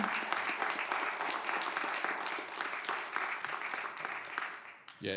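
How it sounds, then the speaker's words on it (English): Concert audience applauding after a song by a band, a dense, continuous wash of many hands clapping that fills the room and fades near the end. "it's really, really good to hear clapping"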